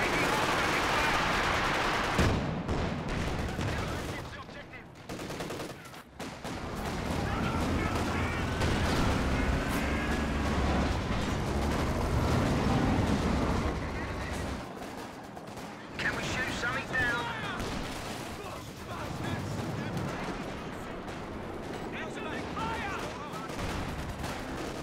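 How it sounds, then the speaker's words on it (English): Machine gun fire and other gunfire crackle through a Company of Heroes 2 2v2 match, dense bursts running almost continuously at steady loudness, with a commentator talking over much of it. "Lining up on the machine gun."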